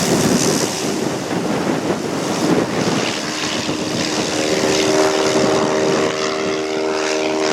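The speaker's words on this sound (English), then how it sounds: "That was a gnarly takeoff. He had like no ground speed." A propeller airplane takes off from rough ground in the Alaskan backcountry, with a short, sluggish ground run. The engine drones amid heavy wind buffeting, and a steadier propeller tone emerges toward the end.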